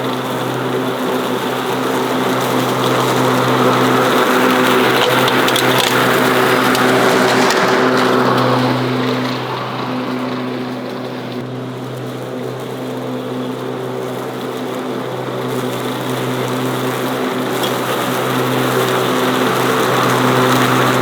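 An 80V battery electric 26-inch self-propelled Powersmart lawn mower runs steadily outdoors while cutting grass, a loud sustained motor whine and blade hum that dips slightly partway through, with no talking.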